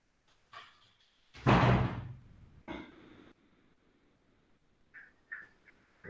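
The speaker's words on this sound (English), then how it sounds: "Allow me to close my windows and door because some mosquitoes are coming in." Windows and a door are pulled shut indoors, producing a loud thud followed by a second softer closing knock, then a few faint rattles in an otherwise quiet room.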